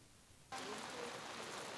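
Rain falls steadily on an outdoor ceremony in Toledo, a soft hiss that swells abruptly after a quiet start and then holds as a broad, even wash with no voices.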